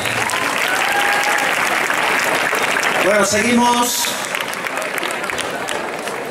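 A graduation ceremony audience applauds in a steady, dense roar of many hands filling the hall, which tapers slightly toward the end while a voice speaks over it.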